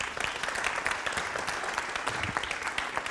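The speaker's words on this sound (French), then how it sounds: "On les applaudit." Audience at a Smart City forum opening in Marseille breaking into applause, a dense, bright clatter of many hands clapping continuously at moderate loudness.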